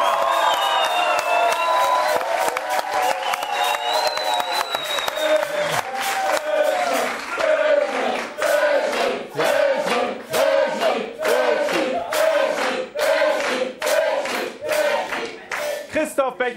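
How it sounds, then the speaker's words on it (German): At a German field hockey championship celebration, a crowd cheers, whoops and shouts at first, then settles into rhythmic unison clapping that pulses steadily and grows louder toward the end. "auch mal einen kleinen Applaus"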